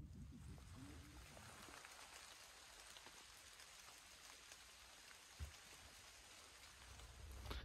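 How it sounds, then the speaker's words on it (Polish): Rain falls at an archaeological dig site, a steady soft hiss of drops throughout with a faint low rumble early on and one brief thump. "Deszcz pada."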